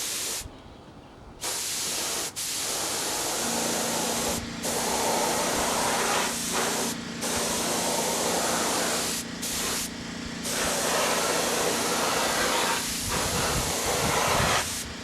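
An aircraft canopy is spray painted, steady loud hissing bursts of the spray gun broken by several short pauses, with a low droning tone underneath.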